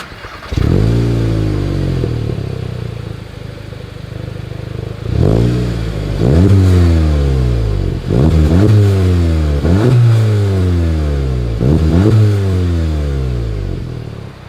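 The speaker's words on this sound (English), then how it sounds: "As always, here is that exhaust clip." The exhaust of a 2021 Volkswagen Golf GTI revs repeatedly while stationary, a series of about six loud, close throttle blips, each rising sharply and sliding back down to a burbling idle.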